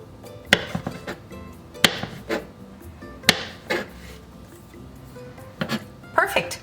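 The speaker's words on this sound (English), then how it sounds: "Chop the other half in half and just finely chop them all." A knife chopping mushroom stems on a cutting board, a handful of sharp, irregular thunks close up, spaced unevenly with quieter scraping between them.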